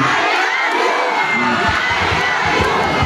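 A dense crowd at a political proclamation rally in Manila roars with continuous shouting and cheering, loud and sustained throughout, with scattered whoops and voices rising from the mass.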